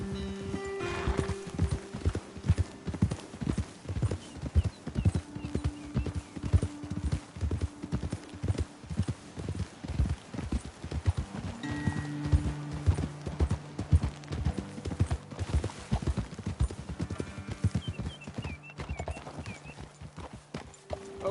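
Steady clip-clop of several horses trotting on hard ground in Red Dead Redemption II, rhythmic hoofbeats throughout with a low tone humming underneath and occasional snorts.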